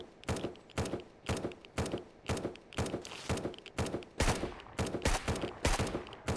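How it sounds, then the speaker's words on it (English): Automated turrets in the video game Surroundead fire in rapid bursts, sped up tenfold, producing a relentless chattering string of sharp cracks roughly every half second, loud and close with no talking. "those turrets at 10x speed sound ridiculous"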